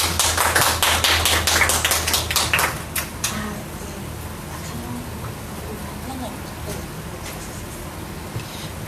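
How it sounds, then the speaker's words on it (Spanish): Audience applause welcoming a speaker at a regional wound and ostomy care course, sharp individual claps for about three seconds that thin out to sparse taps over a low room hum. "la vamos a recibir con fuertes aplausos"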